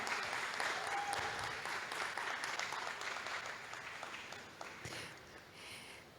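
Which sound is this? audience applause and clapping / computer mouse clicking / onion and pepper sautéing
audience applause and clapping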